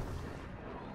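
A cannon booming in the video game LittleBigPlanet 3, a single dense, loud blast filling the whole moment without a clear onset or decay.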